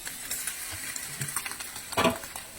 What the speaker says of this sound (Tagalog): Igigisa na po natin itong ating chicken.